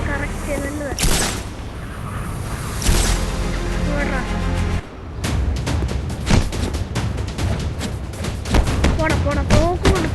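Gunfire in a ninja superhero video game: sharp shots, first spaced out and then in a rapid, dense burst, loud and close, with people talking over the game's action.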